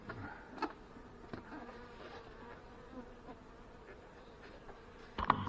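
Honey bees working a hive feeder, giving a steady, faint insect buzz throughout with a few brief louder passes close by near the end.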